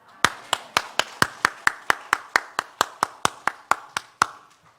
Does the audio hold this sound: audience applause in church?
yes